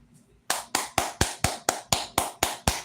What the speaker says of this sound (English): Clap it up, Detroit.